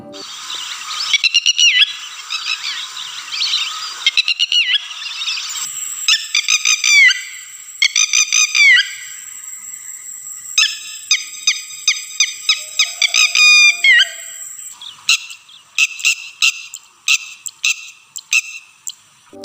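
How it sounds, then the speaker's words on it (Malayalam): Red-wattled lapwing giving loud, repeated sharp calls in bursts of rapid notes, close and clear, with short pauses between the series. "ചെങ്കണ്ണിത്തിത്തിരിയുടെ ഉച്ചത്തിലുള്ള ശബ്ദങ്ങൾ പക്ഷിയെ എളുപ്പത്തിൽ തിരിച്ചറിയാൻ സഹായിക്കുന്നു"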